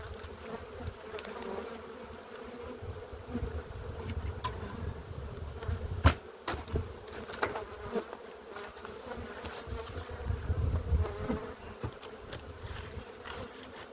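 Dense, steady buzzing of many honeybees close by at the hive, a continuous droning hum with slight swells in loudness throughout.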